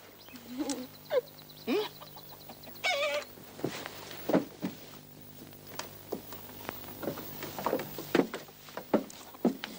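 A hen clucks in short, close bursts, a few sharp calls scattered among other farmyard noises and faint background sounds.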